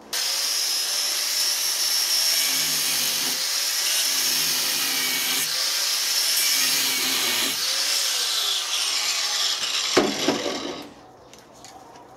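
Angle grinder running steadily and loudly up close with a bright high whine that wavers as it bites, then winds down and stops near the end.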